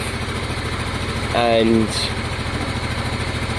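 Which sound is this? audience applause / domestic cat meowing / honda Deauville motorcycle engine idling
honda Deauville motorcycle engine idling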